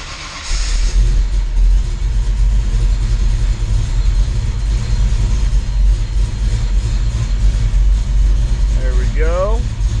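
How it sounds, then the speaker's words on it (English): A car fitted with a progressive nitrous setup cranks briefly and fires up, then settles into a loud, steady low rumbling idle that runs close by for several seconds, with a short voice near the end. "So things first, let's start the car."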